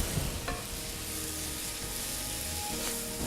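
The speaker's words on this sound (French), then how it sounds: "Je lance mes oignons en cuisson." Onions with salt and Espelette pepper cook in a pan alongside coriander seeds, spring onion, citrus zest and crushed garlic, giving a steady, close sizzle that fills the clip without talk.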